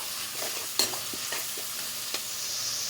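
Chilli chicken being stirred through its sauce in a pan, a steady close sizzle with a few sharp spoon scrapes and clinks breaking through.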